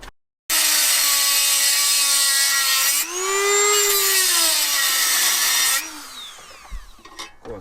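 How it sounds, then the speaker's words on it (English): A Dremel rotary tool grinds down the head of a bolt on a VW Golf GTI Mk7, a loud, steady high-pitched whine whose pitch dips and recovers under load, then spins down at the end. "we're just dremeling out the top of the head"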